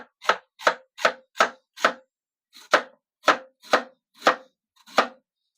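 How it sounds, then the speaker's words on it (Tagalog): A knife chopping taro on a cutting board while preparing pork sinigang, with about ten crisp, evenly spaced thuds in a steady rhythm and one short pause, close and clear with no talk. "Itong gabi hinihiwa kong parang labanos nga"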